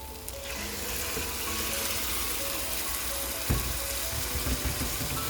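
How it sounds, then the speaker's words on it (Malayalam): Cooked prawns and their water tip into a pan of sizzling chili masala for a Kerala prawn roast, a continuous close frying hiss with a few scraping stirs and clinks, no voices. "വേവിച്ചിട്ടിരിക്കുന്ന കൊഞ്ച് നമുക്ക് അങ്ങോട്ട് തട്ടിയിടാം."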